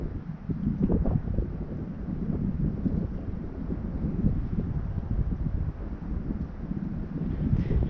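Wind buffets a microphone aboard a small boat on Fern Lake, a steady loud low rumble with gusty surges throughout and no voices.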